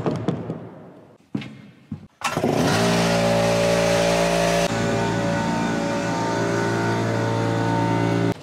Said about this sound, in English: Got to go turn on the compressor